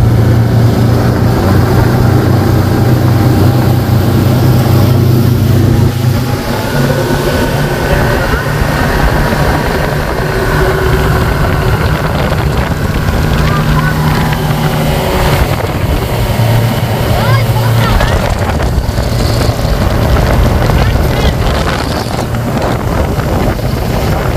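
A jet boat speeding across open water, its steady engine roar and rushing wind noise constant throughout, with loud chatter and shouts from riders over the top.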